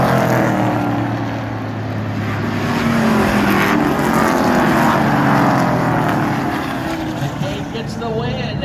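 Stock cars racing to the checkered flag at Wiscasset Speedway, a loud, steady roar of several engines passing close by, with a race announcer's voice under the engine noise.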